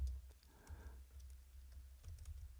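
Code being typed on a computer keyboard, a short burst of quiet key clicks close up near the start followed by a few scattered taps at low volume, with no speech.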